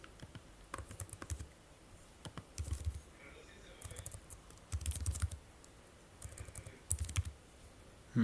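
Typing on a computer keyboard while entering grocery items into a meal scheduler, heard as short bursts of light key clicks separated by pauses, fairly close and moderately quiet.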